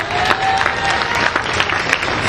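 Church congregation applauding during a celebration worship service, a steady wash of clapping and crowd noise with faint cheering running through the whole moment.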